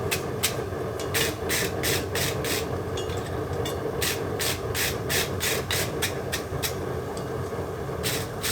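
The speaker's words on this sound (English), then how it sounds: "Rasp all the junk, or brush all the junk out of there" A farrier's rasp scrapes across a horse's hoof in rhythmic strokes, about twenty scratchy sweeps in steady runs, close, over a constant background hum.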